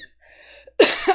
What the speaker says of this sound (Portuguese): A tosse tá melhorando.